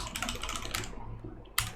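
A password is typed on a computer keyboard during server setup: a quick burst of light key clicks, a brief pause, then a final sharper keystroke, close and clear.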